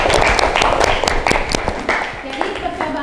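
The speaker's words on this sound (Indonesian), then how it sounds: "beri tepuk tangan dulu" Applause and clapping from a classroom of students during a physics lesson on Archimedes' principle, a burst of many hands loud and close for about two seconds, then tapering off into scattered claps.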